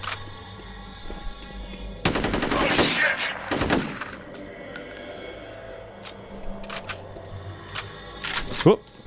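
A shotgun fired in the F.E.A.R. video game gives two loud, close blasts about a second and a half apart, each trailing off into a rattling tail, with quieter game clatter around them.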